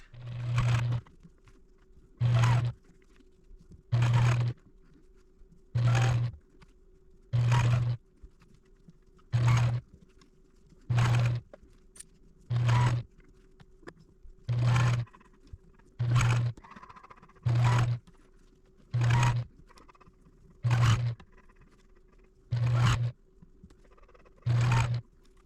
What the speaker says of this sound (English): let's take these over to the sewing machine and sew that